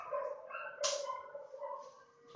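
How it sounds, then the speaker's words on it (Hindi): Dogs barking outdoors, a few muffled, moderately distant barks and yips rising over a steady background, with one brighter burst near the middle. "कुत्ते कुछ ज्यादा ही भौंक रहे।"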